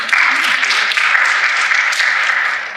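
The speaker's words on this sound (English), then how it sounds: "Round of applause for why." Conference audience claps in a steady, even wash of applause for a few seconds, fairly loud and close, with faint voices underneath.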